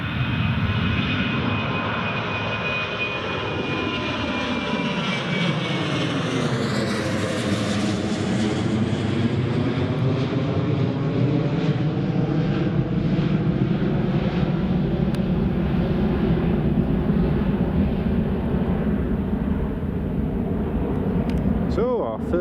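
An airliner taking off from Newcastle International Airport, its loud jet roar holding steady throughout with a pitch sweep as the aircraft passes close, and a faint voice underneath.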